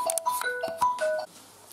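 A phone rings with an incoming call, a quick run of bright electronic ringtone tones repeating in a short melodic pattern, close and clear, then cutting off into quiet.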